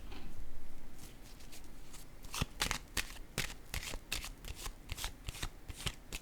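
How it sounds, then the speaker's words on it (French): Tarot cards being handled and set down on a surface, a run of sharp papery flicks and taps that sound close and crisp against a quiet background, with no talking. "Attendez, je vais déposer une carte ici."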